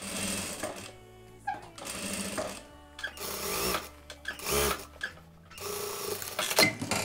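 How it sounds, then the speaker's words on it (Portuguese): Sewing machine topstitching a blouse seam, running in several short bursts of rapid stitching with brief pauses between, close and clear with no talk. "E viro pra dentro pra pespontar."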